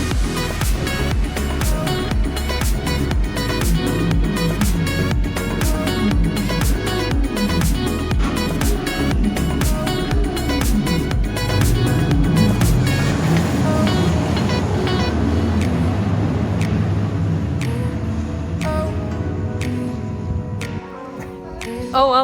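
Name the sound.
Velocity roller coaster ride at Flamingo Land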